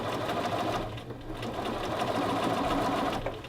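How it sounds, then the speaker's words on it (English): A sewing machine stitches along the collar band of a men's shirt, a steady close whirring motor with rapid needle chatter that slows briefly near the end. "you are going to sew the entire length of the collar band"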